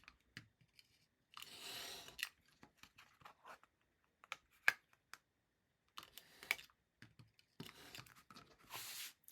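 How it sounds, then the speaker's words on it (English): A craft knife drawn along a ruler slices through mat board in several separate scraping bursts, some long and some short, close up with quiet gaps between the strokes. "I usually do one shallow cut and then cut all the way through"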